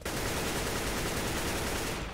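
Rapid automatic gunfire from the video game CS:GO in zombie escape mode, a continuous dense rattle of shots for about two seconds, loud and close with no talk.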